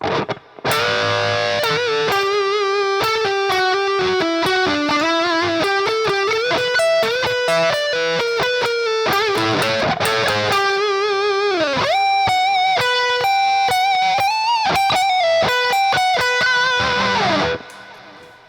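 A loud electric guitar solo with heavy distortion, rapid note runs mixed with held bent notes and slides, played continuously before cutting off near the end.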